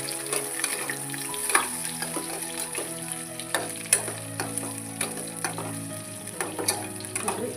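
Small pieces of raw mango being mixed and fried in oil, a quiet steady sizzle broken by regular clicking and tapping strokes of a spoon against the pan, close with no talk.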